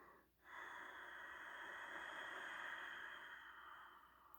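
A single long, soft exhale through the nose lasts several seconds, a faint airy hiss close to the listener during a breathing practice, with no talking.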